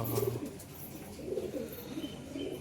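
A seven-year-old tumbler pigeon coos softly in a few low, rounded phrases, fairly close and quiet, with no talking over it.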